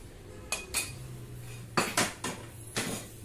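Ingredients such as coconut, tomato, cumin and sambar powder drop into a steel mixer grinder jar while making avarekalu saaru, giving several sharp metallic clinks and clatters spaced across a few seconds, with no talk.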